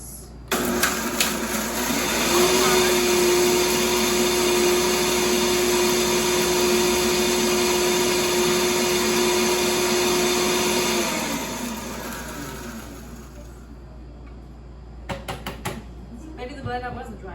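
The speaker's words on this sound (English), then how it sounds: "So the blender was dry, and then put dry stuff in there." A countertop blender whirs loudly with dry ingredients for a raw vegan tomato sauce, starting abruptly and grinding steadily for about ten seconds before winding down and stopping, followed by a few light clatters.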